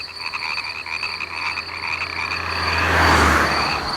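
Toads croaking in a steady, dense chorus of rhythmic calls, fairly close and loud, with the sound swelling into a brighter, noisier wash toward the end.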